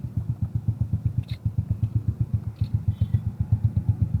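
A Suzuki Smash motorcycle fitted with an Apido v3 exhaust idles nearby, a deep, full, even thumping pulse repeating steadily without pause, alone and without talk.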